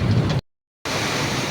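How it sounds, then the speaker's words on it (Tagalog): Heavy downpour of rain, a dense steady hiss that cuts out briefly in the middle and then resumes at the same strength. "Dito ako inaabot ng super lakas ng ulan"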